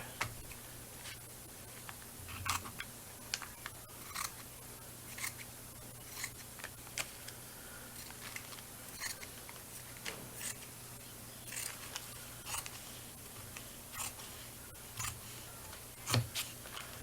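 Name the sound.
cutting paper for a junk journal cover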